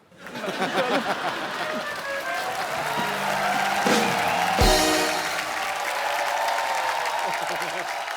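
A TV comedy show's studio audience claps and cheers, filling the room with steady applause, with a voice or music rising partway through.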